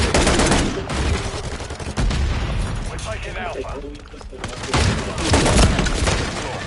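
Gunfire in a first-person shooter video game: bursts of rapid shots and booms, loud and continuous, with a voice talking over the firing.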